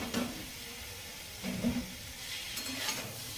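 Taro stolons frying and being stirred in a pan, a soft steady sizzle with a few scraping stir strokes, close and fairly quiet, no voices.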